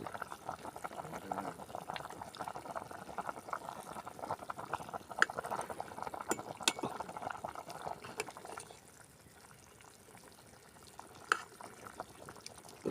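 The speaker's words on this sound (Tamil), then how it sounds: "குழம்பு கொதிச்சிருச்சு கொதிக்கட்டு நல்லா பார்ப்போம் நல்லா கொதிச்சிருச்சு" A game-meat curry bubbles and simmers in a pot with soft popping and a few sharp clinks; the boiling grows quieter near the end.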